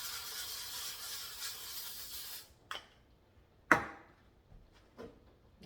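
A steady, close hiss of cooking spray coating the bottom of a pan runs for a couple of seconds, then cuts off, followed by a few sharp clicks and knocks.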